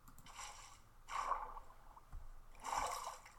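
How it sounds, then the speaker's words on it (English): A water block placed in the Minecraft video game, giving soft flowing, splashing water bursts that swell and fade three times in quick succession, fairly quiet and close. "if I put this block of water right"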